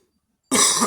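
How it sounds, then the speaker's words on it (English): A single harsh cough from a man cleaning and oiling leather boots, bursting abruptly out of silence, loud and close. "Gosh, this cough."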